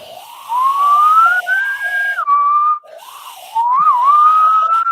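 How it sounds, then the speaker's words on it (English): A person whistles loudly in wavering, rising and gliding tones in two phrases separated by a short pause, close and alone with no talk. "That was huge whistling."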